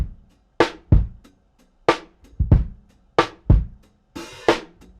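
Boom bap drum loop run through the Arturia Tape Mellow-Fi tape plugin: steady kick and snare hits with a slightly softened, saturated tone, close and loud, with a wash of hiss near the end.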